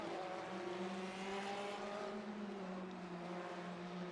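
A Porsche race car in the Le Mans Ultimate racing game, a steady engine drone with shifting harmonic tones as it runs alongside and moves past at Sebring, moderately quiet with no talking.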